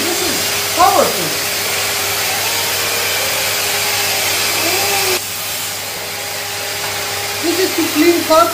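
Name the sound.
Henry vacuum cleaner running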